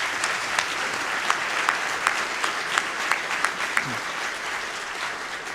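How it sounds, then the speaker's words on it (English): An audience at a Texas GIS forum gives a steady round of applause, dense clapping with a few sharper individual claps standing out, continuing evenly throughout. "Can we give one more round of applause for that?"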